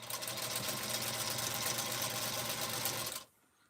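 An old sewing machine, a 1947 model, hums and clatters at a fast, steady rhythm close by for about three seconds, then stops abruptly, with no talking over it.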